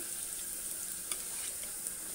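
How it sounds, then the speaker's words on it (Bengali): A soft, steady sizzle of bitter gourd and potatoes frying in oil, close by and fairly quiet, with a couple of faint pops. "আলুটা ভাজা ভাজা হয়ে গেছে এবার আমি দিয়ে দেবো করলাগুলো"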